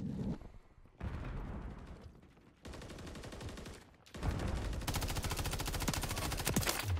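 Call of Duty: Modern Warfare 3 gunfire: loud, dense rapid-fire bursts that stop and start in several stretches, then build into a long, continuous automatic barrage near the end.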